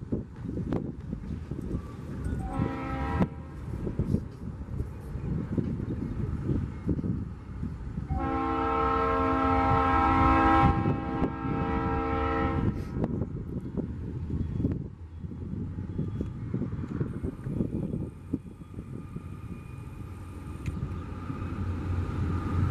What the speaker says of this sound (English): conrail dash 8, I think